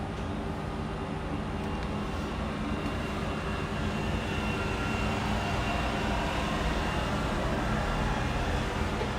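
A Disney Skyliner gondola cabin pulls into its station, heard as a loud, steady broadband rumble and hum of machinery and cable drive that barely varies throughout, with no voices.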